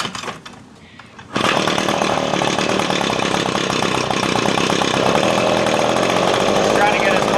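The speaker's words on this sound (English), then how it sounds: "run it on choke and see if I can get it started again." A two-stroke engine on small outdoor power equipment catches after a brief quiet start and then runs on choke with a loud, close, steady buzzing drone to the end.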